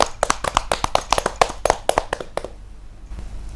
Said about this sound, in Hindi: जोरदार तालियों से अभिनंदन कीजिए, स्वागत कीजिए सुधा शर्मा जी।